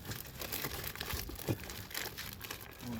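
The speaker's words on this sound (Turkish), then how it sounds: "İkinci paketimi açıyorum." Plastic parcel packaging from an online order crinkles and rustles as it is torn open, a continuous close-up crumpling with a few sharper tearing moments and no talk.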